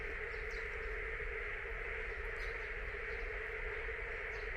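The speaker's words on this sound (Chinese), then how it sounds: "这是蛙声一片。" A dense chorus of frogs croaks from wasteland behind a house after heavy rain, a continuous distant drone that holds steady throughout, with no talk.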